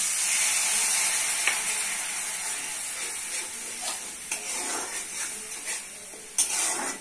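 Spice masala sautés in a pan with a loud, steady sizzle, while periodic stirring scrapes and clinks surface through the hiss, close up and with no talking.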